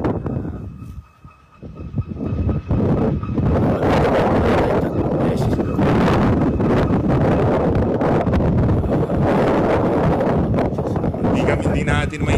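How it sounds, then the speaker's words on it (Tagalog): Strong wind buffeting an outdoor microphone at a political news broadcast, a loud continuous roaring rumble that swamps nearly the whole stretch after a brief quieter dip at the start. "Mahangin eh."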